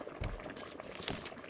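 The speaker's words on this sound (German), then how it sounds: "Hier blubbert's." Water bubbles and gurgles in the Raft survival game, a faint, irregular stream of small pops and burbles with no talk over it.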